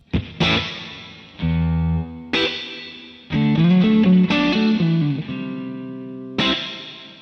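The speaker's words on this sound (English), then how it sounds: "let's move on to the spring. Let's turn the decay right down" Distorted electric guitar through an MXR M300 reverb pedal on its spring setting with decay turned down, played as a few struck chords and single notes whose tails cut off fairly quickly, close and without talk.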